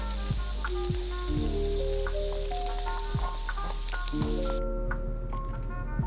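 Kung pao chicken stir-fries in a hot pan, sizzling and crackling with a steady bright hiss and occasional clanks of stirring, moderately close.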